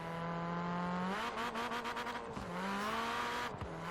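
A Hyundai Veloster N in Forza Horizon 4 revs hard through its gears, engine pitch climbing steadily with brief dips at each shift, loud and close with a faint tire squeal.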